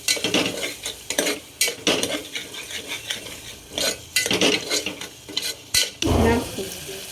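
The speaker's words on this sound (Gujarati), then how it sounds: "પછી આપણે એને ધીમો તાપ કરીને તેલમાં ફેરવવાનું" Potatoes for a dry farali bhaji stirred in hot oil over a low flame, with a spoon repeatedly scraping and clinking against the pan in irregular bursts over a soft, steady sizzle, close and alone.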